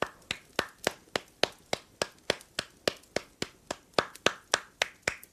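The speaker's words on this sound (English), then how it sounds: "Everybody give yourself a round of applause." Rhythmic round of applause, a steady series of sharp, evenly spaced claps that sound like a few hands clapping up close, with no talking over them.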